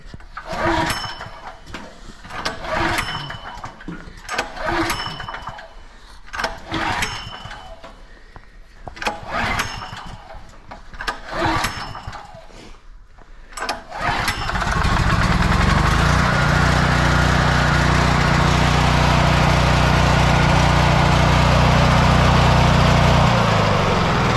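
A small lawn-equipment engine with an auto idle is pulled several times, sputtering with rhythmic yanks, then catches and settles into a steady, fairly loud idle.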